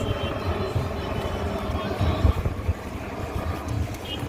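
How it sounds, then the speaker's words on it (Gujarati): A steady low rumble of a helicopter passing overhead, mixed with outdoor wind noise and faint background voices. "હેલિકોપ્ટર તો ત્યાં ઉપરથી જ હેલિકોપ્ટર નીકળ્યું છે"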